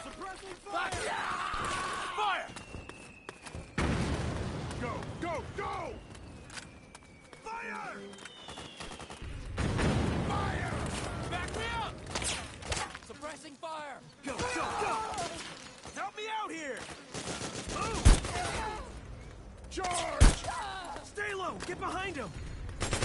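Metal Gear Solid 4 battle with bursts of gunfire and sharp shots, including loud isolated cracks, mixed with shattering impacts while soldiers yell commands throughout.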